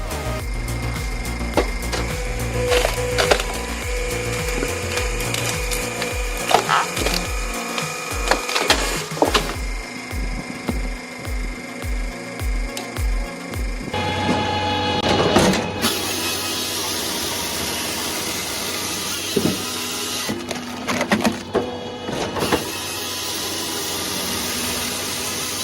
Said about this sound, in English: Here, we've got the powerful Dalen 2050 for firewood processor paired with the rugged Massey